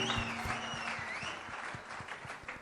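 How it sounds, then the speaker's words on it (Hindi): Applause at a Bollywood film success party in India, a steady wash of clapping from a gathered crowd with a few distinct nearer claps, and a faint tonal whine and low hum running underneath. "जोरदार तालियां, कम ऑन।"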